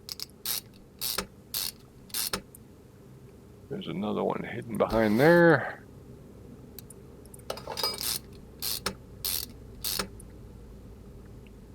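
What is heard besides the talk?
fitting crankshaft bearing caps in video game Car Mechanic Simulator 2021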